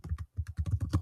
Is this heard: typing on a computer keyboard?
yes